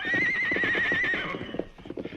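A horse whinnies loudly and at length as it is roped in a western radio drama, with hoof clatter and scuffling mixed in beneath it.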